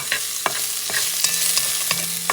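Tocino, pork belly or bacon, browning in a pan for Puerto Rican rice, with a steady sizzle broken by several clicks and scrapes of stirring, close and alone.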